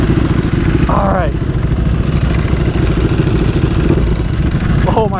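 A Ducati Panigale V4 motorcycle idles close by with a loud, steady, lumpy engine rumble throughout, while people exclaim briefly over it.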